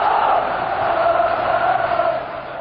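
Some 40,000 Rangers football supporters sing in a stadium at an Old Firm match against Celtic, a dense, sustained roar of massed voices that sounds loud yet slightly distant.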